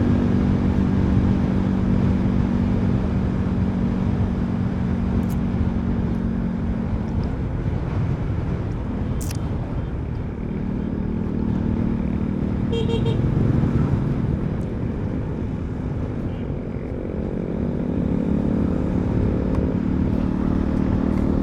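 Euro Rock R125 motorcycle riding on a road trip, its engine droning steadily and loudly throughout with shifting pitch and rushing wind noise, a brief horn-like toot partway through.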